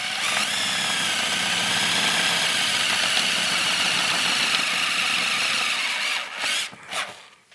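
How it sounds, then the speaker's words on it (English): An electric drill bores steadily with a larger bit through a chassis part for a 1930s Globe tube amplifier, a loud continuous whine that runs for about six seconds before stuttering and winding down. "I'm bracing the top of the drill against my body so that it can't wiggle around while it's using this bigger"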